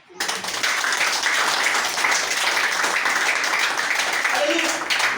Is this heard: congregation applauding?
yes